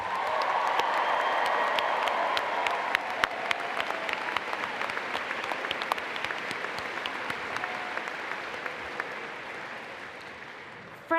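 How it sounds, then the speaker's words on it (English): Applause from a large university arena audience at a welcome event, dense and sustained clapping that slowly thins out over about eleven seconds, with faint crowd murmur and no talking on top. "let's please give a round of applause to Zach and the orientation leaders"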